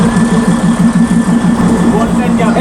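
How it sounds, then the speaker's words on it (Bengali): Darjeeling toy train steam engine idling at the high Darjeeling station platform, a loud, close, steady rhythmic throb with a faint whistle-like tone above it, with voices talking over it. "এই স্টিম ইঞ্জিন দার্জিলিংয়ের এই এত উঁচু প্ল্যাটফর্ম থেকে ছাড়বে"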